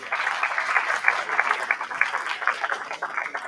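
An audience at a community land summit gives steady, sustained applause to welcome a speaker, with dense, even clapping throughout and a murmur of voices underneath.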